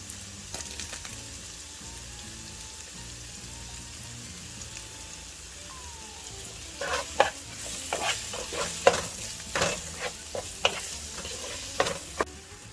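Spaghetti sauce with garlic, crushed red pepper and tomato paste sautéing in a pot, a low quiet simmer that turns into brisk stirring with clattering scrapes and crackling sizzle in the second half, close.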